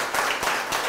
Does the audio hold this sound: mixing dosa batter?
no